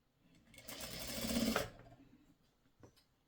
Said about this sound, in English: I sew first just to get it under the needle so the needle can catch it